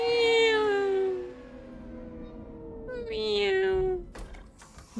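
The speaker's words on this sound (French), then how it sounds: "Le chat faisait à peu près ce bruit-là, en fait. Miaou." A cat in Mass Effect 3 meows twice, long drawn-out wailing cries close by, with a brief clatter at the end.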